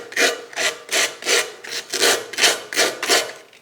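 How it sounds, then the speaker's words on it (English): An aluminium profile edge on a Jet JPT 310 helical planer thicknesser is given a gentle rub to take off a slight sharp edge, about eight steady back-and-forth abrasive strokes, close and clear with no talking. "So I'm just going to give that just a very gentle rub there"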